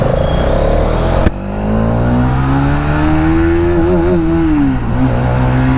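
Hero Xtreme 250R motorcycle, a 250cc bike ridden through city traffic, its engine loud and close, droning steadily, climbing in pitch through the gears with a quick shift dip and a brief throttle change.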